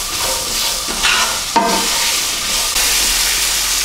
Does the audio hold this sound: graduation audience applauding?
no